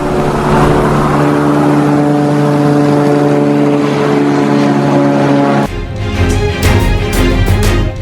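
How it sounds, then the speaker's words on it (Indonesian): A loud, steady engine drone of an airplane passing overhead in the sky over Israel fills the whole stretch, with the sound shifting abruptly near the end. "Warga merekam sebuah pesawat melintasi langit Israel."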